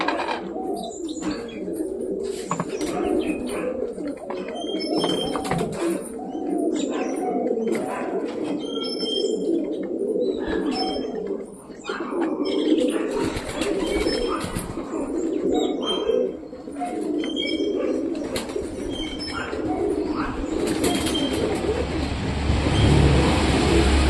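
Pet pigeons coo repeatedly in soft, rolling calls, with occasional chirps from other birds and faint traffic noise in the background.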